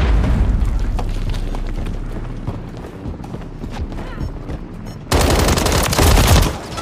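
Call of Duty Modern Warfare Kill Confirmed gameplay: rapid, dense gunfire rattles throughout, ending in a sudden louder burst of shots and blasts.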